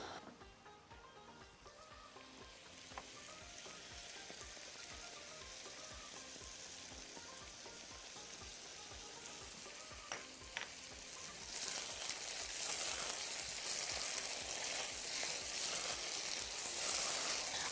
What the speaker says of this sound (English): We added the sauce and mixed all the ingredients together.